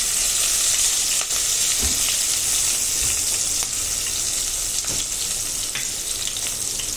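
Green chilies, curry leaves and red chili sizzle in hot oil as a tempering for dal dhokali. The frying hiss is loud, dense and continuous, with occasional soft stirring knocks and no voices.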